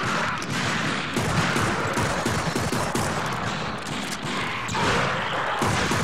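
Dense, continuous gunfire from the Xbox shooter Darkwatch, a loud sustained barrage of overlapping shots and thuds with no pause throughout.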